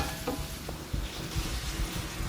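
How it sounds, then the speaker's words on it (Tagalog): Garlic and onion sautéing in leftover frying oil from chicken, giving a steady close sizzle broken by soft scraping stirs and light pan knocks. "Doon na tayo magigisa ng bawang at sibuyas."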